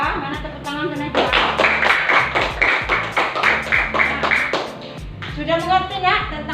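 Children in a primary school classroom clap their hands together in a rhythmic patterned beat, a string of loud sharp claps in steady time, with voices chanting and speaking before and after the clapping.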